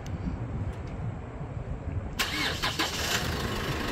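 A 2019 Holden Colorado Z71 engine starts by remote start, its quiet background giving way to the abrupt catch of the engine and a settled, close idle with no talk.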